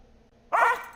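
A corgi in the Distant Colonies game gives a single sharp, close bark that breaks a quiet background.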